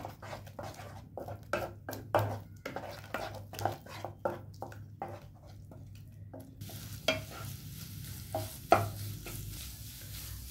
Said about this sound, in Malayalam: ഇങ്ങനെ ലോ ഫ്ലെയിമിൽ വെച്ചിട്ട് ഇങ്ങനെ ഇളക്കി കൊടുക്കുക.